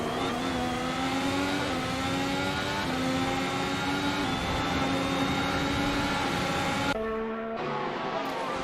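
Race car engines in Assetto Corsa drone continuously at high revs, their pitch climbing and dropping with each gear shift, loud and steady, with a brief change in tone near the end.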